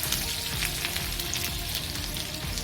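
Ginger and chili paste frying in a little hot oil for spinach manchurian, a steady dense sizzle with crackling pops throughout, close and continuous with no voices.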